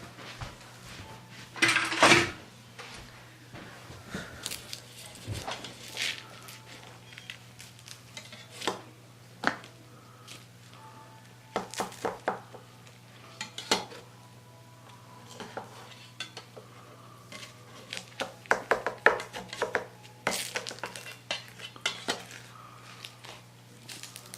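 A spatula knocking and scraping against a pan and dishes while a baked banitsa is lifted out, scattered clinks and clatters over a steady low hum, no talk.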